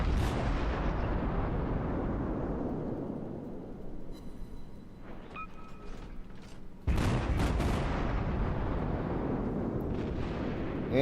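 Cleveland tier 6 cruiser guns firing in World of Warships on the Two Brothers map, a rolling boom that fades over several seconds, faint mechanical clicks and tones, then a sudden loud new salvo near seven seconds.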